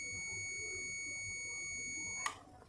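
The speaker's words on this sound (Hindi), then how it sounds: "देखिए एक कट की आवाज़ आई और हमारे थर्मोस्टेट इस बायोमेटल स्विच ने कट कर दिया।" A gas geyser's bimetal thermostat switch snaps off with a single sharp click near the end, heard close over a steady high electronic whine and low background rumble.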